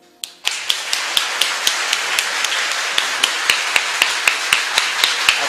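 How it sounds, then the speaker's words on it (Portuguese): Audience applause at an evening talk: a steady, rhythmic clapping with evenly spaced sharp claps over a dense wash of crowd noise, beginning abruptly and continuing throughout. "Vamos aplaudir agora, não a mim, mas a Deus que nos deu essa noite de presente."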